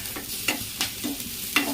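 A spoon stirs a ground paste of cumin, salt and garlic into cooked gongura leaves in a pan, giving about five rhythmic scraping strokes with faint sizzling, close and alone.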